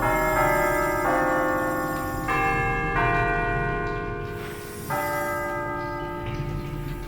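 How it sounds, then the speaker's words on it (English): Bells tolling in Harry Potter and the Order of the Phoenix, a sequence of five or six bright, ringing strikes at varied pitches, each sustaining and overlapping, loud and close with no talk. "then it just makes the bells toll it."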